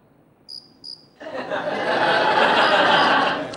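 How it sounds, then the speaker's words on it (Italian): A snowy tree cricket (Oecanthus fultoni) chirps twice, short high pulses, and then a loud, dense hiss of noise comes in and drowns the rest. "Basandomi sul numero di friniti al minuto e sul microclima di questa camera, è un Ecanthus fultoni."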